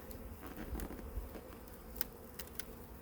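Honeybees buzzing at a beehive during a check-up, a dense continuous drone of many insects close by, with occasional sharper passes of individual bees.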